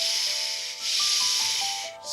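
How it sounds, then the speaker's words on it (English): A waterfall is heard as a continuous rushing hiss that swells and fades slightly over a couple of seconds, with faint tonal notes drifting underneath and no voices. "A waterfall, he cries as they come around a bend."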